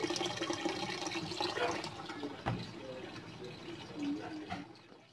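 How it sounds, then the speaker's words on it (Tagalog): Water pours and rushes into the tub of an LG fully automatic washing machine being cleaned. The steady gushing stays fairly close and fades slightly toward the end. "malapit na mapuno yung tubig"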